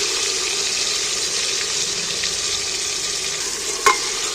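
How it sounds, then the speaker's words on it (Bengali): Nuts and chopped tomatoes sizzle as they are stirred in a hot pan while preparing mutton curry, a steady close frying hiss with a sharp utensil click near the end. "বাদামটা মেরে দিচ্ছি যাতে কাঁচা গন্ধটা চলে যায়"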